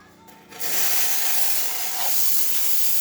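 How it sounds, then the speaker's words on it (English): Steam wand on a Rocket espresso machine, freshly serviced, lets out a strong, loud, steady hiss that bursts on after a short quieter moment and holds close and continuous to the end. "Nice strong steam."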